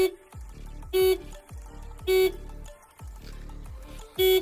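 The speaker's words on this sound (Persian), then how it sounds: "بوق میزنه" Short, loud honks of a car horn repeat at roughly one-second intervals, blaring from close by against a low engine hum.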